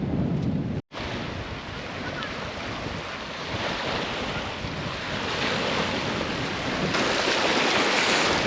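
Water laps at the shore of Pangong Lake in Ladakh under a strong wind, a broad continuous rushing wash with heavy wind buffeting on the microphone, steady and loud, with a brief dropout near the start.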